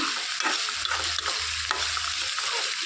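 Sliced onions and green chillies frying in a pan while being stirred, a continuous close sizzle broken by repeated scraping strokes.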